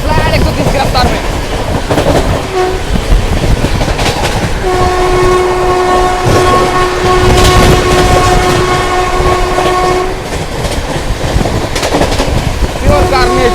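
An express train races through Dadri railway station at 130 km/h, with a loud, close roar of wheels and rail clatter and a sustained horn blast through the middle of the pass.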